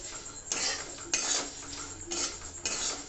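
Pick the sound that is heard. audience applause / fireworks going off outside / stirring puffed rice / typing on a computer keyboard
stirring puffed rice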